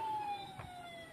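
A toy fire engine siren gives a faint, steady electronic wail, with a soft clack partway through.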